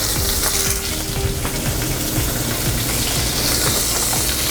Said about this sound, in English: You're just going to place it in some oil on a nice high pan.